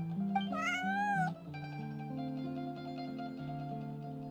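Bonnie the cat in Genshin Impact gives a single drawn-out, rising meow near the mic, followed by a soft tonal game music bed.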